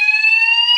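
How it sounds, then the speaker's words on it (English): Steady electronic fire alarm sounding during a test, a loud continuous high-pitched tone with several stacked harmonics, unbroken for under a second and alone with no talk. "That's a fire alarm test."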